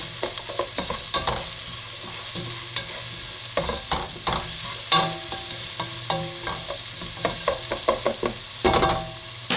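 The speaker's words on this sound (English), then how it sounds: "Cook them onions until they've gone a bit lovely colour" Onions with paprika fry in a pan for a vegetable curry, a loud continuous sizzle broken by frequent scraping and clattering stir strokes in an irregular rhythm, close up with no talking.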